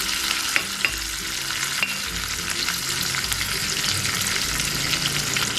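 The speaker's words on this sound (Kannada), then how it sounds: "ಎಣ್ಣೆಗೆ ಸಾಸಿವೆ, ಜೀರಿಗೆ ಹಾಕೋಣ." Mustard seeds, cumin, green chili and ginger sizzle steadily in a spoonful of hot oil for a curd vada tempering, with occasional sharp pops and crackles over a constant frying hiss.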